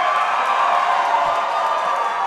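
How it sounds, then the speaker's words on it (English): Loud, dense roar of a wrestling crowd at a women's match in a Vancouver ballroom, continuous cheering and shouting with no break throughout. "This crowd's so loud"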